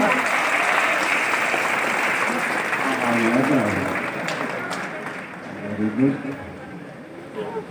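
An audience at an NSTI Ludhiana programme claps together, a dense, fairly loud burst of applause that thins out toward the end while a voice speaks faintly underneath.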